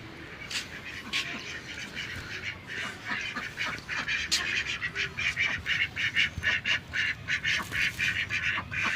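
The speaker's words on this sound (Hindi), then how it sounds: "ऊपर जाके देखते हैं फिर कि हमारी डक्स क्या कर रही हैं।" Domestic ducks quack in a rapid, repeated chatter that builds toward the end, heard at moderate distance beneath a person talking.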